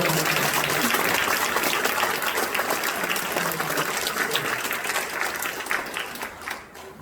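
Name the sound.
applause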